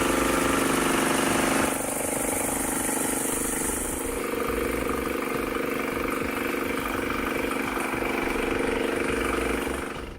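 A 1993 Honda Accord with an F22 engine runs with a crankshaft knock, a steady mid-pitched idle that continues without a break. A high whine at the start cuts off after about two seconds.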